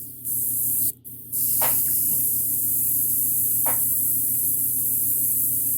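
Watered-down Christmas green paint misted from a spray gun onto a 1/4-scale custom Thor sculpture, a steady close hiss that drops out for a moment near the start and resumes, with a few faint clicks over it.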